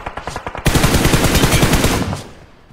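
Loud rapid automatic gunfire in a shooting video game, starting with a few spaced shots and then a long, fast, continuous burst that fades out near the end, heard alone without speech.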